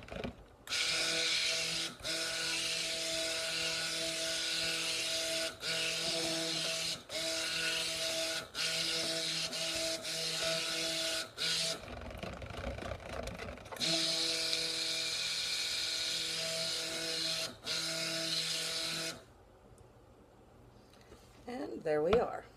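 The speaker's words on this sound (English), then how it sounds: "I will blend my white till I get up to a light trace." A blender whirs steadily through white soap batter, running in long continuous stretches broken by short pauses before stopping near the end, loud and close with a constant mechanical hum.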